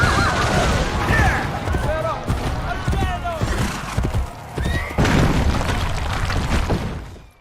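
A horse gallops through a video game battle, its hooves clip-clopping steadily while it neighs and whinnies, with gunfire volleys and booming explosions around it and a voice talking over everything.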